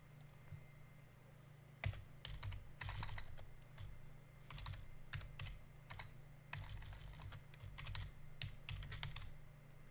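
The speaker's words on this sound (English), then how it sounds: "Jeez, I can't type today. I hate this keyboard too." Typing on a temporary computer keyboard, with irregular bursts of clicky keystrokes over a steady low hum, close and fairly quiet, no talking.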